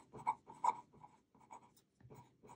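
A pen scratches handwritten notes onto paper in short, close strokes with brief pauses, quiet and alone.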